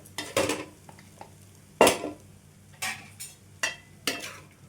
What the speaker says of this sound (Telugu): ఇటువంటి స్పోక్ తీసుకొని ఈ విధంగా కలిపేసుకోండి